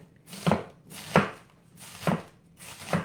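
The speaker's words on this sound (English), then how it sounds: "Let's get the other 1/4 chopped up." Knife chopping cabbage on a cutting board with a rocking motion, four sharp, evenly spaced cuts close up, each a crisp thud against a quiet kitchen background.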